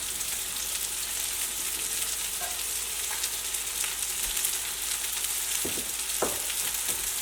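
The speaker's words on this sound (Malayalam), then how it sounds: "അപ്പോൾ തക്കാളി ഇവിടെ ഇരുന്നിട്ട് മുരിഞ്ഞ് വരട്ടെ" Tomatoes frying in a pan for a red chilli chutney, a steady close hiss and sizzle throughout with a few soft stirring clicks and taps near the end.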